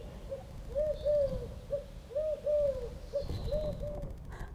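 An owl hoots in a repeated series of soft, wavering calls, several hoots spaced about a second apart over a faint background hiss, with no voices.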